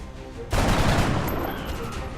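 In the video game XCOM: Enemy Within, a loud burst of gunfire erupts suddenly after a quiet lead-in, a dense crackling volley that slowly tapers off without any speech.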